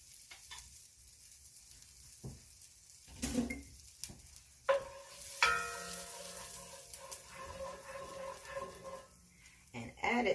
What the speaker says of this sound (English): over medium-high heat, I'm taking the 2 tablespoons of butter and let that melt.